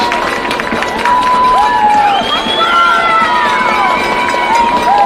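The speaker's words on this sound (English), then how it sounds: "Crowd getting into it." Crowd cheering and shouting at a high school lacrosse game after a goal, a loud sustained roar with whistling tones throughout.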